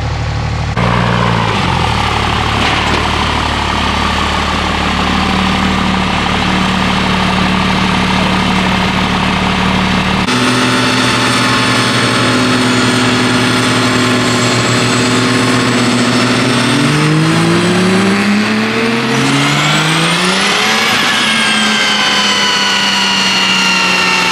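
A car engine runs on a small single-roller chassis dyno, first as a loud steady drone, then changing to a lower tone before climbing in a rising rev near the end, with no talk.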